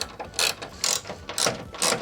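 Ratchet wrench tightening tail light bolts on a 2022-2026 Toyota Tundra: four quick bursts of rapid clicking, close and crisp, each a short run of pawl ticks with brief pauses between.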